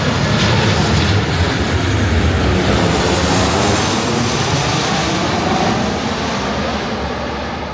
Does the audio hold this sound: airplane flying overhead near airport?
yes